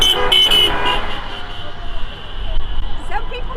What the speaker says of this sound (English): Some people drive, take pictures, and honk.